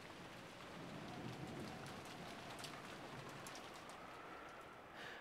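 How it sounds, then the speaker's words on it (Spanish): Wind and rain ambience from the Umineko visual novel game, a steady, soft hiss of falling rain with a low rumble of wind and distant thunder, continuous and faint with no voices. "mientras el sonido del viento y la lluvia lentamente llenaban la habitación de nuevo"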